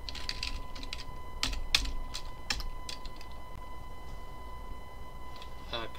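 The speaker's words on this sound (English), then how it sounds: "Here I am typing." Typing on a computer keyboard while coding in C#, close irregular clicks with a few sharper keystrokes over a quiet background hum, no voice.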